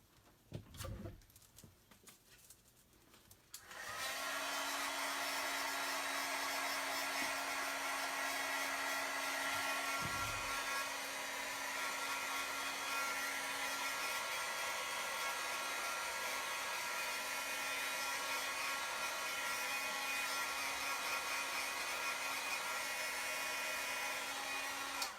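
A heat embossing tool switches on after a few handling clicks and blows a loud, steady whoosh of hot air over a papercraft piece, continuing without a break to the end.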